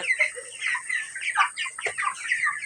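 Twenty-day-old broiler chickens cluck and chatter continuously at close range, overlapping soft calls from a flock with no talking.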